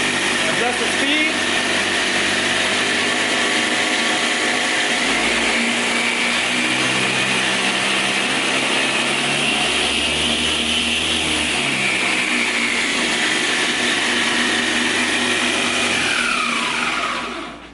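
A 2x48 belt grinder running steadily, a loud continuous motor whine and belt hum close by that holds level and cuts off near the end, with no speech over it.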